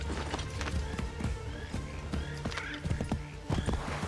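Horse hooves clip-clop at a quick pace in Assassin's Creed III, joined by a brief whinny and other game sounds, with a voice talking faintly beneath.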